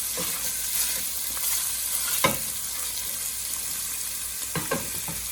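Meat browning in a pan for Zuppa Toscana soup, a steady close sizzle with occasional scrapes and stirs, alone without talk.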